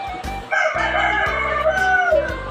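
Game farm chickens cluck while a rooster crows loudly and close by, a long strained call riding over steady low engine-like rumble.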